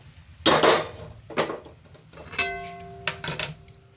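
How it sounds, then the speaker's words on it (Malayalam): Metal cooking pots and pans set down and knocked together in a kitchen while making jackfruit biryani, several sharp clanks and ringing clinks spaced over a few seconds, close and fairly loud with no speech. "ഇത് വേറൊരു പാത്രത്തിലേക്ക് ഒഴിക്കട്ടോ വേറൊരു പാത്രം വയ്ക്കണ്ടേ"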